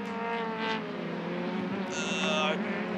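Aussie Racing Cars with 1.2 litre twin cam four-valve engines, about 125 horsepower, run on the Winton circuit, giving a steady buzzing engine drone with a brief higher squeal partway through.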